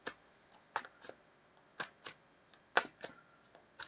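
Tarot cards are shuffled by hand in a series of short, crisp riffling bursts, about eight of them spread unevenly with brief quiet pauses between. The sound is close and moderately soft, with no talking.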